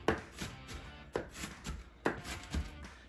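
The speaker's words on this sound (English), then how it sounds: "We're just gonna keep chopping down to get them nice and sliced up." Onions are chopped on a board with a knife in a home kitchen, about eight distinct close knocks in an uneven rhythm, fairly quiet, with no speech.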